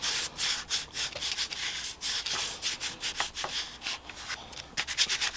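Loose salt being rubbed off textured watercolor paper by hand, heard as a continuous close scratchy rubbing with quick uneven strokes and no talking.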